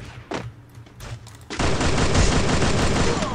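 A couple of isolated gunshots ring out in the video game Free Fire, then a loud, sustained burst of rapid gunfire fills the rest of the clip.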